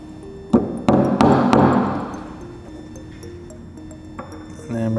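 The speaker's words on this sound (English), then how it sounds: "You're just going to knock it down until it's flush." Hammer tapping a roll pin flush into a clutch master cylinder fitting on an FRS/BRZ, several sharp metallic knocks in quick succession, close and ringing, followed by a quieter tap and brief handling noise.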